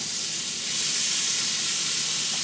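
Steady, loud hiss and sizzle of food sautéing on a hot flat grill in a kitchen, continuous and close with no talking.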